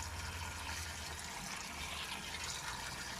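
Biochar rinsed off in clean water, a quiet, continuous watery wash and pouring sound with no talking.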